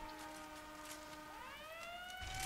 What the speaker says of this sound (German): Oh, wir haben so eine nette Sirene,